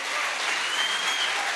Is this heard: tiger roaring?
no